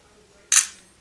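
A single crisp shutter click from a Motorola Moto G phone camera, sharp and close, fading out quickly after a quiet lead-in.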